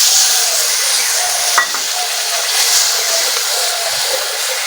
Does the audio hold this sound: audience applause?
no